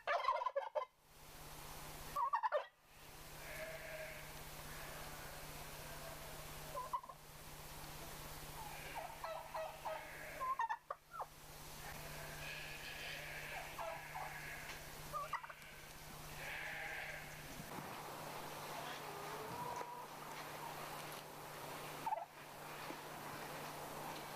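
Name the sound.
turkeys gobbling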